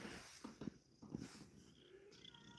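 A small rescue cat meows near a door, a few faint, brief cries with quiet pauses between them in a hushed room.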